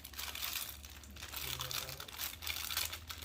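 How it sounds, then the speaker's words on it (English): A plastic Ziploc bag crinkles and rustles as a whole box of crackers goes in, quiet irregular crackling bursts close by with no talk. "we put a whole box of crackers in the Ziploc bag"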